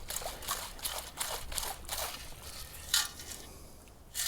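A beach metal-detecting find, an aluminium drinks-can tap, gets washed in water with a run of quick, close splashes and swishes in irregular bursts.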